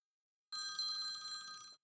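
A telephone rings in one short, steady burst of bright electronic tone, heard alone and fairly faint with no talking.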